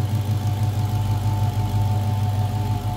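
A 2021 Dodge Charger Hellcat Redeye Widebody with its 6.2 liter supercharged Hemi V8 idles steadily, a deep, even rumble with a faint whine above it, close by and uninterrupted.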